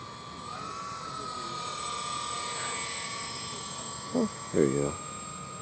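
A GWS C-130 Hercules radio-control model plane flies a touch-and-go pass at St. George, Utah, its electric motors holding a steady, thin droning whine throughout. Someone speaks briefly near the end.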